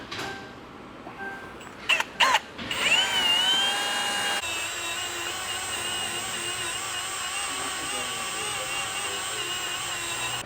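Power drill with a step bit cutting holes in a Jeep Wrangler JL, a few short bursts then a long steady high whine as the bit bites into metal.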